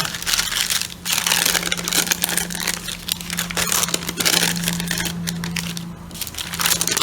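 Crinkly parchment paper is handled up close in a steady run of crunching, crackling rustles, with a brief lull near the middle and a sharper crumple toward the end.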